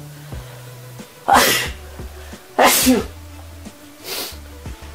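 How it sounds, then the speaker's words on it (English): Two sharp sneezes in quick succession, then a softer third burst, close and loud against a quiet room with faint low hum. "Hold on, I have to sneeze."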